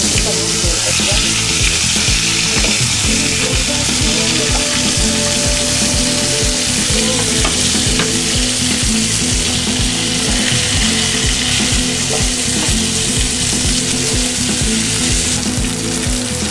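Chicken pieces browning in a hot pan for mushroom chicken, a loud, dense, unbroken sizzle and crackle of frying oil that holds steady throughout.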